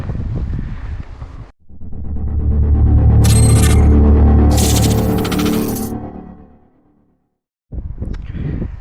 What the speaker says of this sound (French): Il y a un vent de malade, ça va être très drôle.